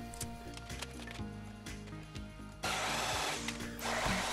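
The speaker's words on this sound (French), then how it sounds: "On va pouvoir percer les autres trous." A drill whirs and bores into a wooden wall plate during a roof timber renovation, the motor's pitch shifting under load before a louder, rougher grinding burst as the bit bites into the wood, close up.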